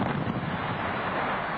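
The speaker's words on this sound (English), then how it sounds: "An explosion." An explosion's dense, sustained roaring rumble fills the whole short moment, loud and broadband with no distinct onset, heard alone without voices.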